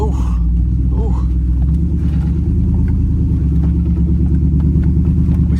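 An old-body-style pickup truck's engine labors loudly and steadily as it climbs a steep rocky hill off-road, a constant heavy rumble with rising revs and a few faint voices underneath.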